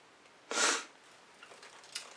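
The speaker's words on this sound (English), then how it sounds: "Excuse my sniffling." A single sharp, close allergy sniff, followed by quieter breathy noises and a faint second sniff near the end.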